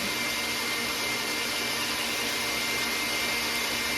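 An electric mixer beating room-temperature cream cheese gives a steady, loud motor whir that runs unbroken from start to finish with no talk.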